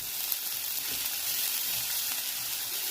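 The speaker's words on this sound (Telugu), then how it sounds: "ఉల్లిపాయలు కొంచెం ఎర్రగా అయ్యే వరకు వేయించుకోవాలి" Onions frying with asafoetida in ghee hiss in a soft, continuous sizzle, fairly quiet and even throughout, with no talking.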